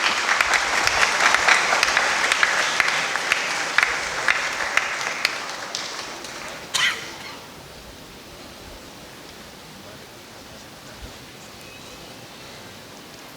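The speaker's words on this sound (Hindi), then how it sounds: "कृपया तालियां बजाइए।" Audience applause rings out at a Karam Parab 2024 award ceremony as a science-stream student receives first prize, a dense steady clapping for about seven seconds that then cuts off, leaving a quiet hall.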